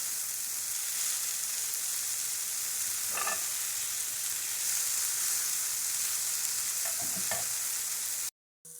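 Vegetables for peppered chicken sizzle steadily in a frying pan, with a few short scraping stirs of the spatula standing out over the constant hiss before the sound cuts off near the end.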